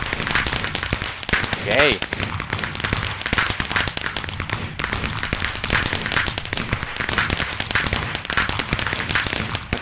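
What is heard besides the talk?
fireworks exploding in the video game Minecraft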